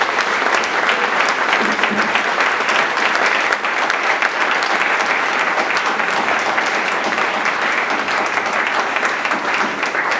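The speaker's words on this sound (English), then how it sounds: "quick round of applause for our amazing panelists tonight" Audience applause for a panel of veterans and retired athletes at an evening sales event, a dense, sustained roar of clapping lasting the whole stretch.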